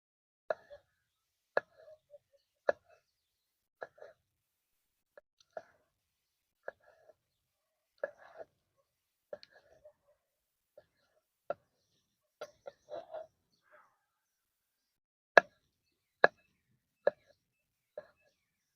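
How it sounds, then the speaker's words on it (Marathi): A knife chops a washed country-grown tomato on a board, giving a string of sharp, close clicks at an uneven, steady pace with short pauses between cuts. "आता एक टमाटा कापून घेऊ"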